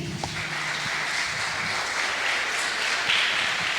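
A church congregation applauds together in a broad, steady wash of clapping that holds throughout, with faint voices mixed in.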